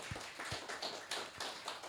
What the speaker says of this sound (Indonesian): Tepuk tangan untuk Pak Sona